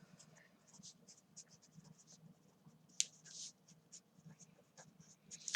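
Chalk or marker writing on a classroom board during a statistics lecture, a scattered run of faint scratchy strokes and taps with one sharp knock near the middle, heard close but quietly.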